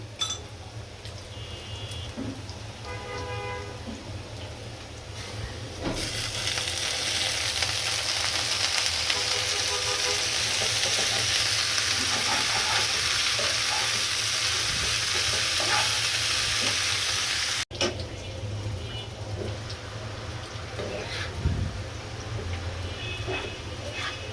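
Cabbage with salt hitting a hot pan brings a loud, steady sizzle that lasts about twelve seconds, then stops abruptly. Softer stirring and clattering come before and after.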